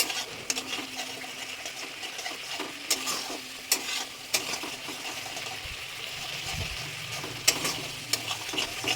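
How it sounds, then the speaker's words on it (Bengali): Masala for prawn malai curry being stirred and fried in a pan, a steady close sizzle broken by sharp spoon scrapes and clinks against the metal, with no voices. "পুরোটা নাড়িয়ে এটাকে ভালো করে আমরা কষাবো"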